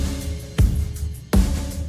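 A drum groove plays with two heavy kick hits roughly three-quarters of a second apart over a busy wash of cymbals and snare.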